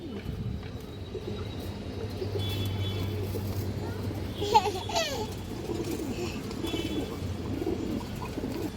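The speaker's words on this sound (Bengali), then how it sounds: "অনেক সুন্দর একটা কবুতর" Pigeons of old high-quality breeds, including high flyers and Palla line birds, coo softly and continuously in the background while someone talks over them.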